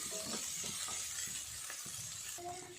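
Potatoes and green peas with curry leaves sizzle steadily in a pan while being stirred, soft scrapes and a faint clink over a constant frying hiss.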